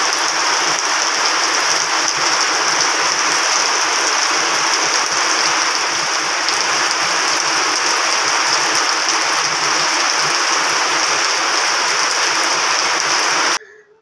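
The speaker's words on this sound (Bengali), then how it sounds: "দেখো বৃষ্টি হচ্ছে" Steady, dense rain falling heavily throughout, a continuous broad hiss with no voices, cutting off abruptly at the very end.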